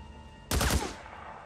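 A short burst of enemy assault rifle fire in the video game Days Gone cracks out suddenly after a quiet moment, a rapid cluster of loud shots lasting about a third of a second before fading.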